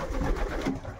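Racing pigeons arriving home, with soft, low cooing close by over a steady background rumble, lasting only a moment.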